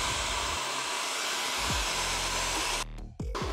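A hair dryer blows in a steady, loud whoosh through most of the span, set to low heat and high airflow while drying hair, then briefly cuts off and restarts near the end.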